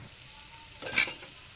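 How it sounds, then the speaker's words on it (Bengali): Ground spices, including chilli powder and sugar, frying in oil for a mutton dish while being stirred in the pan: a soft sizzle with a brief utensil scrape, quiet and close. "সব দিয়ে আমি একটু নাড়াচাড়া করে নিলাম।"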